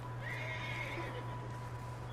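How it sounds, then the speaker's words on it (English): A horse in Red Dead Redemption 2 gives a long wavering whinny over a steady low game hum in a snowy setting, fairly faint, with no talk. "I can hear the horses."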